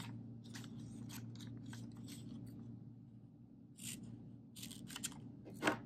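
Scissors snip paper in several short, crisp cuts close by, in uneven bursts separated by pauses, over a faint low background hum.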